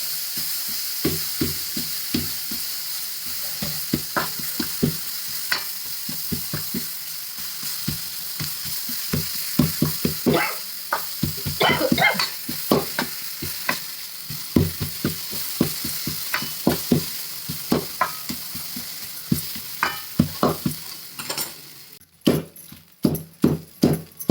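Hot green chili and tomato thecha is crushed and mixed in a hot pan just off the gas, with a continuous sizzle under a long run of irregular thumps and scrapes that grow sharper and louder near the end.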